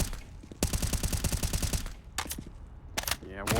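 Rapid automatic gunfire rattles in a sustained burst and then shorter volleys in Counter-Strike on Overpass, with bullets fired through a wall during an ESL Pro League playoff match between fnatic and Liquid; loud and close.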